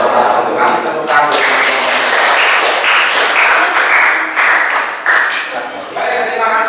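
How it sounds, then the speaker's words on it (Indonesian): A classroom of students gives a loud, sustained round of applause after a group presentation during a teacher practice lesson, dense clapping continuing for several seconds. "Kasih tepuk tangan."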